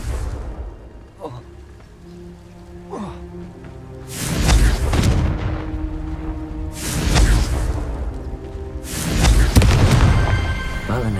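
Three heavy blasts from the Confringo fire spell in the Hogwarts Legacy video game, set in the catacombs, each a loud booming burst with a fizzing tail about every two and a half seconds, over low ambient game noise.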